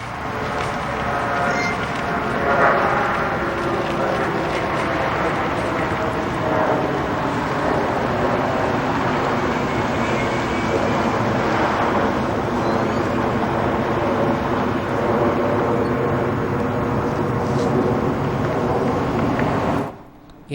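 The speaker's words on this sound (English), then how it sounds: "Now this is a plane." A plane passes overhead, a long steady drone with slowly shifting tones that holds at even loudness for about twenty seconds before cutting off abruptly.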